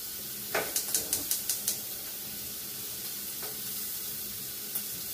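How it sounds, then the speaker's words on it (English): Shrimp sizzles in a skillet with a steady, close frying hiss throughout, broken early by a quick run of about seven sharp clicks and a couple of later taps. "As the shrimp is cooking here"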